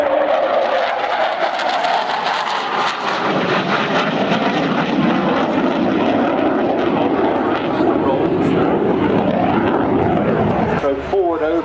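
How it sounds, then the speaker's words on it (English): A large propeller aeroplane roars steadily overhead at the 1999 Biggin Hill Air Fair, its engine drone loud and continuous as it passes, with a voice talking over it. "This is a big aeroplane"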